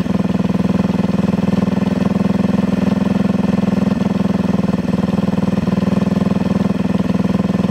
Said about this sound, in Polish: No i 7 minut już silnik chodzi,